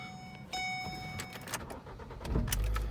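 A 2008 Ford Focus SES engine cranks and catches, settling into a steady idle close by, with a faint jingle of keys near the start.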